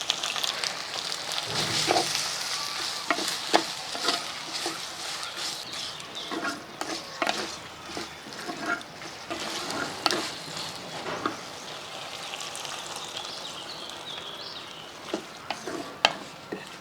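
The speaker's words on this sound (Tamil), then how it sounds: "தக்காளியை போட்டுட்டு அப்படியே கத்திரிக்காயை இதில் போட்டு விட்ருவோம்" Tomato and brinjal with ground masala and salt frying and being stirred in a clay pot at a home outdoor kitchen, with a continuous soft sizzle and frequent scraping strokes, close but fairly quiet.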